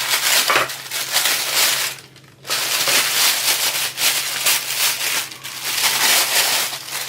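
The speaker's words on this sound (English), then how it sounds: "let's pop this helmet over here and unbox this little cool little visor" A helmet visor with a sun strip is pulled from its plastic packaging, making loud, close crinkling and crushing that runs almost continuously, with one brief pause, and no talking.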